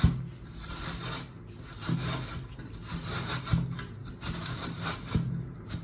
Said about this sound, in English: run it back and forth across the surface of the grater